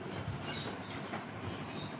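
A train rolls along steadily, its wheels giving a soft, continuous rumble with faint clickety-clack, heard as a background effect in a children's phonics story about a train ride.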